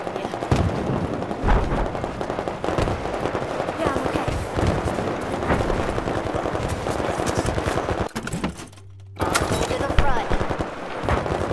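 Sustained machine gun fire in the Battlefield 4 video game on Xbox One, dense rapid bursts with explosions layered in, continuing loudly with a brief break near the end, under occasional talk.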